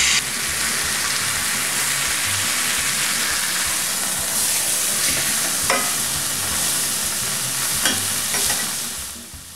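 Beef sears in a hot pan for taquitos, giving a loud, steady, continuous sizzle close by with a few sharp pops and no talking.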